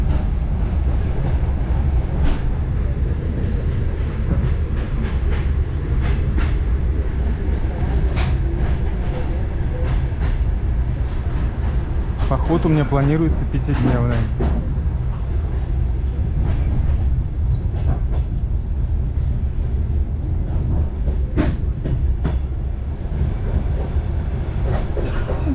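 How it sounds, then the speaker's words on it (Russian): Inside a single-car diesel train running from Samara to Buzuluk behind a 2TE10U locomotive, a loud, constant rumble goes on with scattered rail clicks and knocks, while someone talks over it. "Это про непосредственную поездку, как выяснилось, на дизель-поезде"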